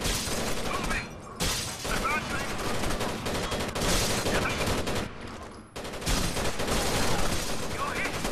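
Heavy machine gun fire in Rainbow Six Vegas 2 rattles in loud sustained bursts, broken by two brief pauses, with gunshots and impacts crowding the mix.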